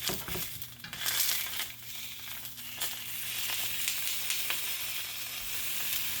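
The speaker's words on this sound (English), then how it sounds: "Get it nice and sizzling." Meat sears in a hot pan on a stove, a steady close sizzle and hiss with occasional crackles and the scrape of stirring, no voices.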